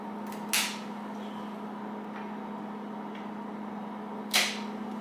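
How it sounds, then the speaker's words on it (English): Two crisp snips as old Shimano STI shifter cables on a bicycle are cut, spaced several seconds apart, close and fairly loud against a steady low hum. "Now I'm going to go ahead and cut all the old cables."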